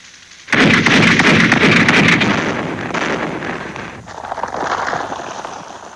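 Big guns fire in a heavy artillery barrage in a Vietnam War film about the final battle into Saigon, erupting suddenly into a loud, sustained roar of rapid blasts that slowly fades, then swells again.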